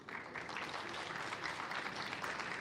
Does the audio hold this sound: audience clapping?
yes